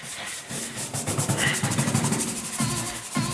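A brush scrubs rust remover into rusty metal on a school bus, giving a rapid rhythmic scratchy rubbing close by that holds steady for a few seconds before stopping briefly.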